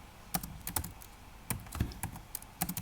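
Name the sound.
typing on a computer keyboard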